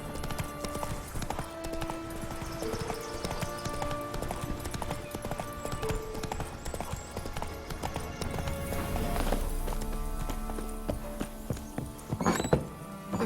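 Roach, the horse in The Witcher 3, moving along with steady rhythmic clip-clop hoofbeats throughout, close and fairly loud, over game music, with a brief whinny-like burst near the end.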